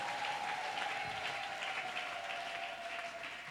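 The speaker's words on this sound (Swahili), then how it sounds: "Tumpe Yesu makofi mazuri" A church congregation applauds together in a sustained, even wash of clapping that holds steady throughout, with a faint tone running beneath it.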